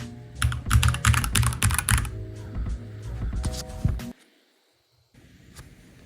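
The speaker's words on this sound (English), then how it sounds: "If I hit any key on my keyboard, it should print a T." Rapid clatter of keys on a computer keyboard, loud and close for about four seconds, then a sudden cut to near silence and a faint tail.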